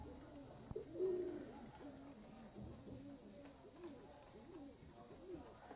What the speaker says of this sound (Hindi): कमग्गर कबूतर आज कमग्गर भी दिखाऊँगा आपको।